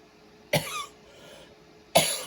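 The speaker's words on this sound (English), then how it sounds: "I'm very concerned with this cough." Two sharp coughs about a second and a half apart, close and fairly loud, with quiet between them.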